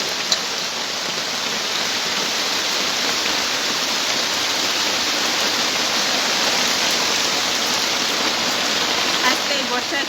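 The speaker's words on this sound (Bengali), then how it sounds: "দেখুন বৃষ্টি পড়ছে।" Heavy rain pouring down during a morning monsoon downpour, a dense, steady roaring wash of falling water with scattered drips, close and loud throughout.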